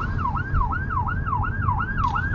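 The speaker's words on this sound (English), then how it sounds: "Anything we need to do about the fire engine?" Fire engine siren wailing in a steady rising-and-falling cycle during a driving lesson at a traffic-light crossroads in Torquay, loud and continuous over the low rumble of the car's engine, with no talk.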